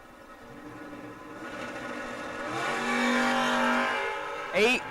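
A Mustang and a first-generation Camaro race at a memorial drag race, their engines droning and climbing in pitch as they accelerate, loud and close, ending in a sharp rising whine.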